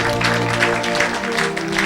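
A church congregation at a Thursday service claps in a steady, dense wash of applause that fills the room from start to finish, with a low musical drone sounding beneath it.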